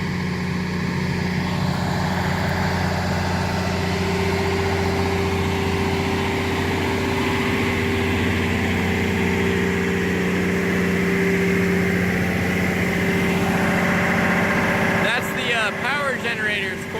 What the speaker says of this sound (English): Power generator is quite loud. I'm sure y'all can hear it by now.